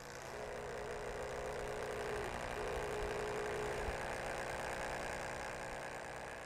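A corded drill with a mixing paddle churns thick StreetBond pavement coating material at a controlled speed, giving a steady, loud motor drone that holds even throughout with slight shifts in pitch.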